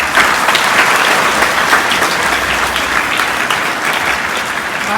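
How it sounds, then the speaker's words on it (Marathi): A school audience at a Marathi Language Pride Day event in Latur gives a loud, sustained round of applause, with dense and even clapping that holds for the full stretch. "तुमच्यासाठी एकदा जोरदार टाळ्या."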